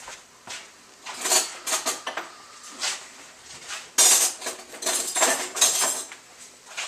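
A spoon clinks and scrapes against dishes and pans while fried squirrel with biscuits and gravy is plated, in irregular bursts of bright clatter at close range.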